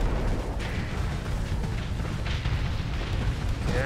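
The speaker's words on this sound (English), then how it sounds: "a glimmer exploded" Ship exploding during a Starsector space battle: rolling low booms and bursts over a constant rumbling din, with a few sharper blasts standing out amid dense, steady combat noise.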